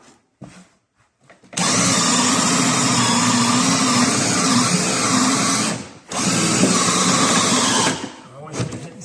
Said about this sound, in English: we just got to try to get this drill bit in that pocket